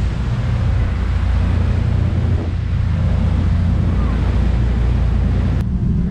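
A boat on a sea excursion off the Canary Islands pushes through waves, with loud constant engine rumble, wash of water and heavy wind buffeting the microphone throughout.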